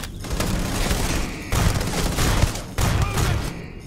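In a Starfield firefight, loud close bursts of gunfire and heavy explosive blasts come in three thick surges, each ending abruptly before the next.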